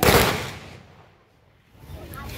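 Police guard firing a rifle volley as a funeral gun salute, one loud sharp crack that fades away, then a quieter tail, with a shouted command nearby.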